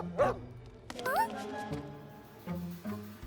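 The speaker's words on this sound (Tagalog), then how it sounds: "Oh, isang galit na aso." Angry cartoon dog barks and yips in a few short bursts, with other sounds and voices mixed in around it.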